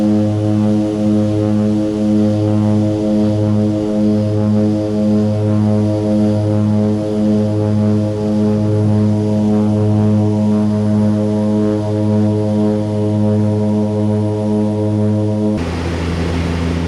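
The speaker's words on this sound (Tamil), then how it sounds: "engine sound கேக்குதா engine sound" Propeller airliner engines drone steadily in flight over Tanna, Vanuatu, a loud, even, deep hum with pulsing harmonics heard from inside the cabin, with no talk.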